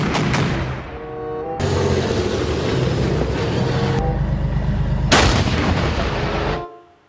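A toy steel tank plays electronic firing and rumbling battle sound effects, loud and continuous for about seven seconds with sharp bursts, then fades out.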